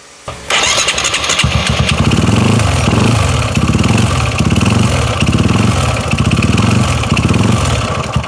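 A Honda Wave 125i motorcycle engine with an abnormal noise starts up and runs, a loud close chugging idle with a regular pulsing beat and a mechanical rattle on top, with no talk.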